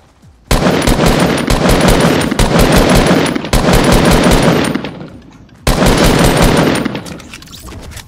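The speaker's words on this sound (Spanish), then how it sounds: "No sé por qué me disparó" Loud, close machine-gun bursts fire at the player in Fortnite, with rapid sustained volleys broken by two short pauses and a final burst that fades out.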